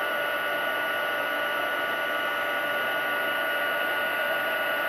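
A heat embossing tool blows hot air onto black cardstock to melt silver embossing powder, a steady, loud, close whirring hiss that holds unchanged throughout, with no talking.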